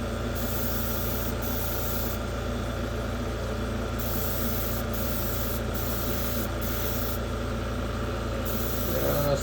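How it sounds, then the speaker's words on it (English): A spray can lays a light misting coat of paint on a model car, producing a loud, steady close hiss that stops and restarts in several short bursts over a constant background drone. "Let's get first coat down. We're just doing a misting coat here,"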